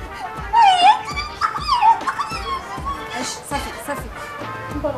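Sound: dogs barking and whimpering

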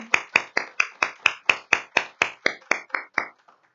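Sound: applause

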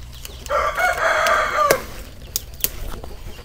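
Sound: chickens clucking and rooster crowing on a farm

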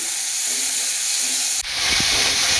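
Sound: chopped tomatoes added to frying onions

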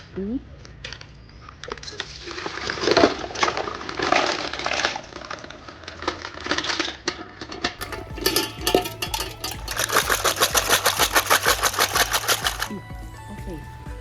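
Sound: removing mussel flesh from the shells

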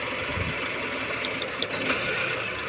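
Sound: Honda engine running roughly with one ignition coil removed

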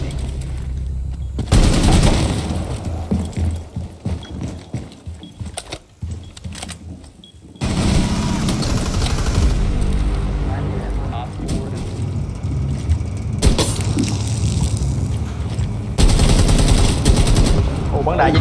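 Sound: gunfire in video game Rainbow Six Siege

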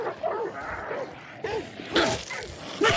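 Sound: dogs barking in a video game

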